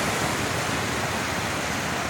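Wake waves from a passing launch wash against a riverbank, a steady, close, broadband rush of churning water with no voices over it.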